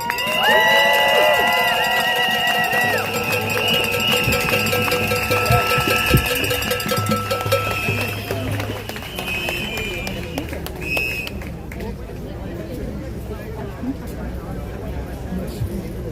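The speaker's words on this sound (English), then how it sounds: "give another round of applause for our Reverend Grantland Hadley." A street march crowd near the White House in Washington DC cheers, whoops and applauds loudly, with whistles and horn-like tones sounding through, before the noise fades to a lower murmur in the last few seconds.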